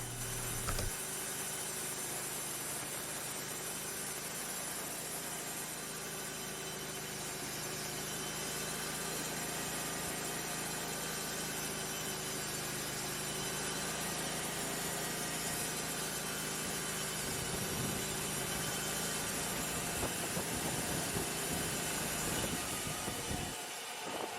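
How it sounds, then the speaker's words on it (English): A Wood-Mizer sawmill engine runs steadily to turn a newly replaced blade drive belt, a continuous droning mechanical hum with whirring overtones that holds at a constant level for over twenty seconds before cutting off near the end. "I want to go ahead and run the belt for a minute just to kind of let it seat into the groove"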